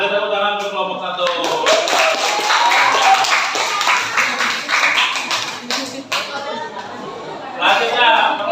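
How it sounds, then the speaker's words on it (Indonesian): A sixth-grade Islamic studies class claps for group 1 after its presentation, with sharp hand claps and taps mixed with children's chatter and voices, fading briefly before another burst near the end. "Beri tepuk tangan untuk kelompok 1."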